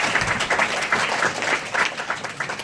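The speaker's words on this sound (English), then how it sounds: "So maybe one more round of applause for them." Applause from an audience at an MBA handover ceremony, continuous brisk clapping from a crowd, even and fairly loud throughout the short stretch.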